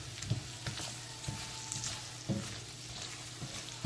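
Golden squash frying in vegetable oil over medium heat, giving a steady soft sizzle with small crackles and pops scattered throughout and no voices.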